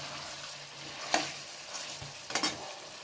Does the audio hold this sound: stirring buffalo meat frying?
yes